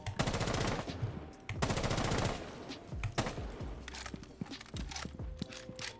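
Video game shooter weapon fire after aiming down sights: two loud, rapid automatic bursts up close, followed by sharp single shots and mechanical clicks of the gun.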